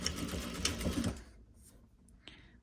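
Sewing machine stitching a quarter-inch seam along the front of a fabric face mask, a dense, steady mechanical whir running for about a second before stopping abruptly, leaving quiet room tone and a faint click.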